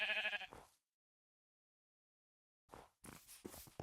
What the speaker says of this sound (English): Oh, there's so many sheep.